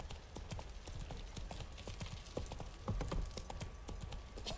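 Roach, a horse in The Witcher 3 video game, gallops with steady, rapid hoofbeat clip-clops, loud and close over a continuous bed of game ambience, with no talking.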